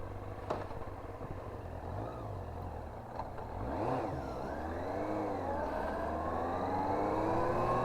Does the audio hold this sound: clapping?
no